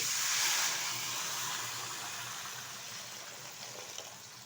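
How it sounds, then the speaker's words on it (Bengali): Water poured into frying dal makes a soft hissing rush that is strongest at the start and slowly fades into a quiet simmering hiss. "দিয়ে দিচ্ছি পরিমাণ মতো জল"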